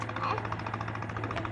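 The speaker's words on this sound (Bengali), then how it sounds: "ওই দেখো একটা নৌকা আসতেছে।" A boat engine approaches along a river, giving a steady low throb with a rapid knocking pulse that holds evenly throughout, with faint voices in the background.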